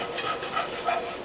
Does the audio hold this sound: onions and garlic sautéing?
yes